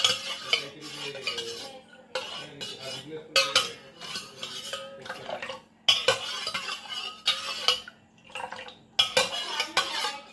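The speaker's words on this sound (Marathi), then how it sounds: "तर आपण मिक्स करून घेऊया।" A spoon stirring ingredients in cups, with repeated clinking and scraping against the sides, close and fairly quiet, coming in irregular bursts with brief pauses between.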